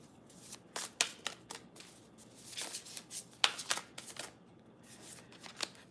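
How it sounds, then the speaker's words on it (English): Tarot cards shuffled and dealt during a reading: a run of crisp riffling snaps and soft slaps repeating at an uneven rhythm, close and fairly quiet, with no voices. "I'm going to go ahead and start throwing cards for water signs."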